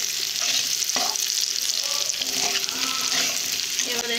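Potatoes and beetroot fry in hot oil in a pan, giving a steady close sizzle with small crackles and occasional stirring scrapes throughout, no voices.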